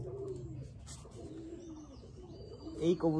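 Young pigeons coo softly in low, wavering calls, somewhat faint, with a louder burst of cooing near the end.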